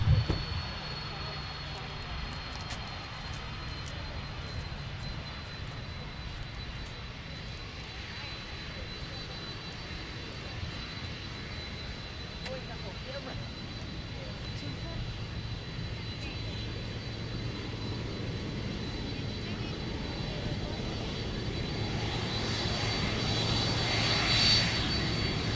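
A UPS heavy jet aircraft at Minneapolis–St. Paul airport rumbles steadily as a broadband engine roar, with a low drone that swells slightly toward the end; a faint radio voice may sit underneath.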